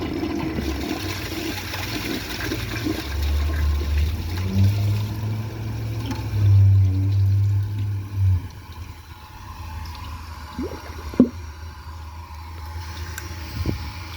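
A 2014 Mansfield Pro-Fit toilet flushing with a full tank while the handle is held down, a loud low rushing surge of water lasting several seconds, then fading to quieter trickling with a few small knocks.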